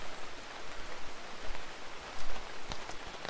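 Heavy rain pours down on a farm in Portland, Jamaica, a dense, loud, continuous hiss with scattered sharper drops, no voices.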